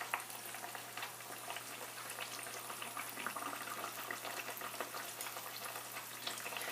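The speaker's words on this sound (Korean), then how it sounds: "한 3분 정도 또는 4분 정도 튀기시면 됩니다" Steady crackling sizzle of a chicken cutlet deep-frying in plenty of hot oil, continuous and close, with no talking.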